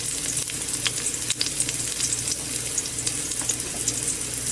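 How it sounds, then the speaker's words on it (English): Real garlic and garlic powder sizzle in olive oil in a pan while soup is being made, a steady, close crackling fry with a hissing texture that continues throughout without talk. "Let it sizzle."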